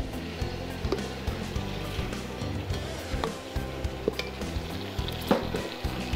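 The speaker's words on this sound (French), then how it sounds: "On mélange, bien sûr, vous vous souvenez, le roux." A butter and flour roux is stirred in a pan for blanquette de veau: a continuous sizzle over low rumble, with faint scraping clicks of the spoon now and then, fairly loud and close.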